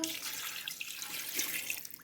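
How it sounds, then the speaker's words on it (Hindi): A glass of water poured into a pressure cooker over chicken, a soft steady splashing stream lasting a couple of seconds, close and fairly quiet with no voices. "इसके साथ ही इसके अंदर जाएगा ये 1 गिलास पानी का"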